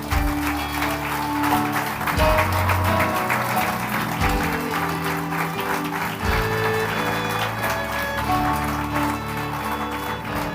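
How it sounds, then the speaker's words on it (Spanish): A church congregation claps together, a steady wash of applause mixed with music playing underneath, fairly loud throughout. "Démosle un aplauso entonces al Señor"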